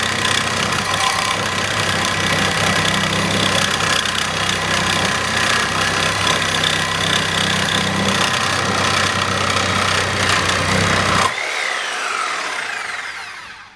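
A reciprocating saw fitted with a Lenox 18 TPI bimetal blade cuts through 3/4 inch mild steel in one loud, continuous rasping run that stops abruptly and winds down to silence.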